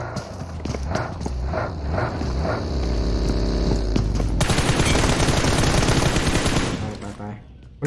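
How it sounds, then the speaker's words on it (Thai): Rapid bursts of video game gunfire crackle loudly and continuously over a busy mix of hoofbeat-like thuds and game noise. "ได้ยินเสียงยิงปืน"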